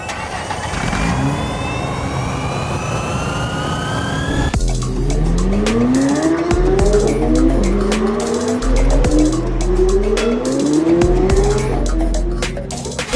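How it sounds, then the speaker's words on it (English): An F1 race car on a hot lap, first a high whining engine, then loud, close, repeated revving climbs as it shifts through gears, with tire squeal and gritty road noise running underneath. "Check out this video of me taking my hot lap"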